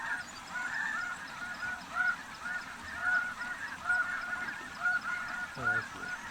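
Snow geese honk over decoys on a spring hunt, a dense, steady chorus of repeated nasal calls from a sizable flock at mid distance, with a low wind-like rumble underneath.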